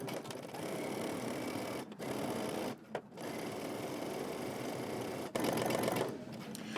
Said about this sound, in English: I'm sewing my first row of stitches 5/8 of an inch down from the cut edge